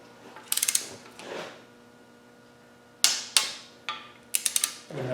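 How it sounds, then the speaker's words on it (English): Torque wrench clicking as it tightens side cover bolts on a Land Rover 200Tdi engine: several close, sharp ratcheting bursts at irregular intervals, loud and unaccompanied by talk. "we've got our torque wrench set at 25 Newton meters"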